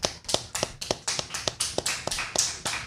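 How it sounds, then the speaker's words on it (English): A handful of people clap together in a small radio studio, a quick run of sharp, evenly spaced claps heard up close for about three seconds with no talking. "I heard 3 people clap, and there's at least 5 of you back there."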